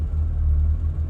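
A car engine idles steadily after starting, a low continuous rumble close by with faintly wavering revs; the car is very dirty and not fully dried out.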